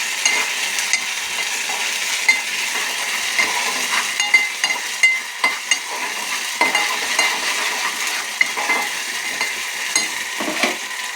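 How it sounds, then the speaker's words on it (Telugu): Ginger garlic paste fries with onions in a pan. A steady soft sizzle runs under frequent clinks and scrapes of a spoon stirring, and no one speaks. "ఇప్పుడు కొంచెం అల్లం వెల్లుల్లి పేస్ట్ వేసుకుంటున్నాను."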